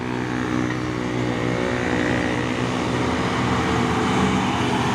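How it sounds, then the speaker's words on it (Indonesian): An orange Fuso 6x2 truck labours up a hill at Bukit Berbunga, its engine roaring loud and close with a strained, steady growl under load, and no talk. "truk Puso Oren 6x2"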